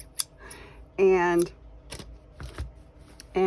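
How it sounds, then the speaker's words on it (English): Large Cutco scissors snip through fabric in a few short crisp cuts, close up, with brief rustling of cloth between and a short spoken word. "I'll just take my giant Cutco scissors"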